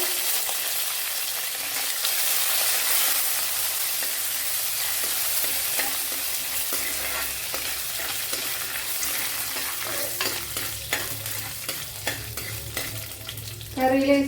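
Chana dal, dried red chillies and curry leaves frying in oil for beetroot varuval, a continuous close sizzle with light stirring scrapes that builds to a louder burst at the very end.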